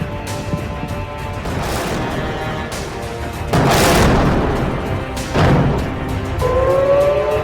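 Bombing explosions from news footage of strikes in Iran give heavy booms and rumbling blasts. A rising and falling siren-like wail overlaps them near the end. The whole mix is loud and dense.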